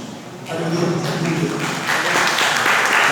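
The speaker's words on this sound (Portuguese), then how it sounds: "Aplauda o Senhor, queridos." Congregation clapping during a Portuguese-language evangelical church service, a dense sustained round of applause that swells after a quiet start and holds steady.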